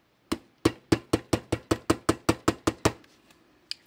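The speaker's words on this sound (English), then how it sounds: "I'm going to use a hammer and my bench block, and I'm just going to give it some taps" A hammer taps metal on a bench block about a dozen times in a quick, steady rhythm, each strike sharp and ringing briefly, then stops.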